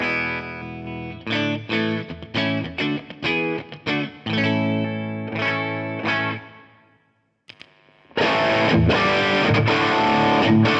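Telecaster-style guitar played clean through a Suhr Eclipse dual-channel overdrive pedal: a run of separate plucked chords and notes, a brief near-silent pause, then fuller, denser strumming, loud and close with no talking.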